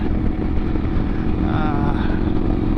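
Motorcycle cruising along the Great River Road on a warm sunny morning, its engine rumbling loud and steady up close, with wind roar throughout.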